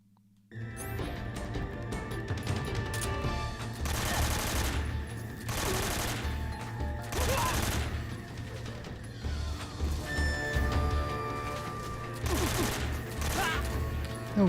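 AK rifle fire in Metal Gear Solid 3 plays as repeated loud bursts of automatic shots over constant game background sound, with several distinct volleys spaced a second or two apart.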